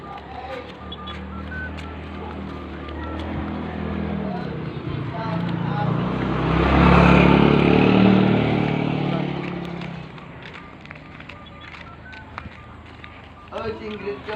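A motorcycle approaches and passes on a road outdoors, swelling to a loud broadband roar at its closest point and then fading away, with children talking throughout.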